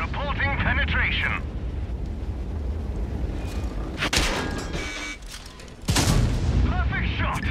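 A tank cannon fires in the World of Tanks Steel Hunter mode, with a Harbinger Mk. IV in play: a sharp, loud boom near the four-second mark, then another heavy blast at six seconds, over constant game noise and a talking voice.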